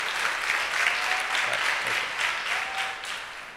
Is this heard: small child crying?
no